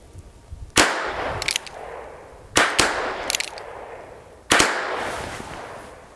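Three sharp revolver gunshots on an outdoor shooting range, a Heritage Rough Rider and Ruger Wrangler, spaced about two seconds apart, each loud close crack followed by a ringing decay and distant echoes.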